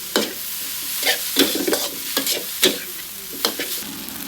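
Glass noodles are stir-fried with oyster sauce in a pan, heard as a steady sizzle broken by repeated scraping strokes of a spatula, close and fairly loud, with no talking.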